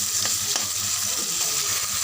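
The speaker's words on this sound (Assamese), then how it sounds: "মাছ ভাজা তেলখিনিতে পিঁয়াজ দি দিলোঁ আৰু পিঁয়াজখিনি ৰঙচুৱা কৰি ভাজি ল'ব" Onions frying in a wok of leftover fish-frying oil, giving a steady close sizzle with a few scrapes and stirs, no voices.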